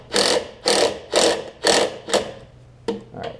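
Ratchet wrench tightening a single bolt on a Craftsman self-propelled push mower gives five loud, evenly spaced clicking bursts, then a pause and two shorter, quieter strokes, close up with no talking.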